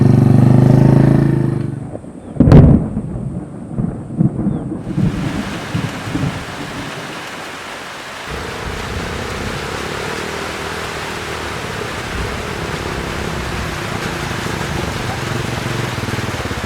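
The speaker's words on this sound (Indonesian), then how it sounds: "Astaga, hujan Tin." During a journey through Nusa Tenggara Timur, a sharp, loud thunderclap cracks close by, then heavy rain settles into a dense, steady roar that continues to the end.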